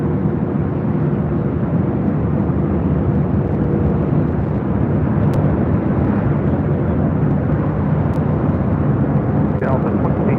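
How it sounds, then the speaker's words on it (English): A Delta Airlines Boeing 737-800 arriving at LAX from Seattle, a steady loud jet roar holding level throughout, with radio chatter and talking over it. "This is Delta Airlines 2372 coming in from Seattle on a 737-800"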